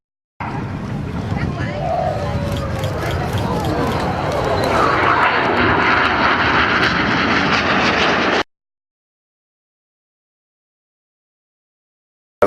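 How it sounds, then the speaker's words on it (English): Red Arrows jet aircraft flying a display with red smoke at an air show, a loud continuous engine roar lasting about eight seconds with crowd noise beneath, then cutting off abruptly. "Getting very dizzy with the red smoke on is Red 5, Flight Lieutenant Steve Morris."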